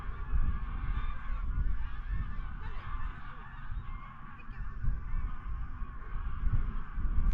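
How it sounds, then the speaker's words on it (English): Distant geese honk over steady wind noise at a beach in September, their calls faint and continuous across the whole stretch. "Loads of geese."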